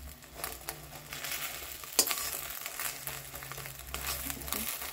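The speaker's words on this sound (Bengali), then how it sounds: "ফ্রাই হয়ে এসছে, এবার আমি এখানে কড়াই থেকে জাস্ট তুলে নিলাম।" Food fries in oil in a wok (kadai), giving a soft, steady sizzle and faint crackle throughout, with a single sharp utensil clink partway through and no talking.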